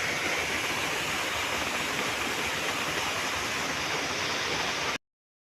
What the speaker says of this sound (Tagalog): Okay, last waterfall.